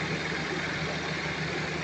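A car engine idling roughly and shaking from a throttle position sensor fault, a steady close drone with uneven low pulsing throughout, no voices.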